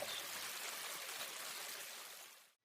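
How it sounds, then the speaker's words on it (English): Waterfall in the Knights Province video game, a soft continuous rushing of water that stays even before fading out at the end. "So here's the waterfall."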